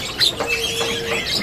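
A small cucak songbird in an Indonesian bird shop gives a brief burst of chirps and tweets, close and fairly loud, in a short clip.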